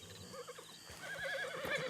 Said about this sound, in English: so I also got a new horse